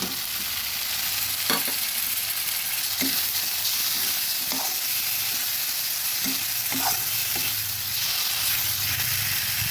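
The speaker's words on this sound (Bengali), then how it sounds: "নেড়ে দিচ্ছি টমেটোগুলো একদম নরম হয়ে গেছে" Soft tomatoes and capsicum sizzle steadily in a pan while a spoon stirs them, scraping and clinking at irregular moments over the constant frying hiss, close and fairly loud, with no talking.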